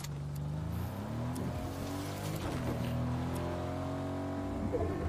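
Car driving in the Fortnite video game, a close engine note that rises and shifts as it accelerates and revs, with brief tire squeal and scraping, steady and loud throughout with no talk.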